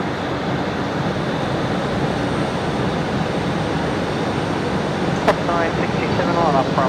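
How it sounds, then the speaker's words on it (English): A Fokker aircraft's engine spins up at Brisbane Airport, giving a broad, steady roar heard from a distance, with people talking over it. "Oh, we got another Fokker on push as well. Is that heading now? I think it is. I can hear it on startup."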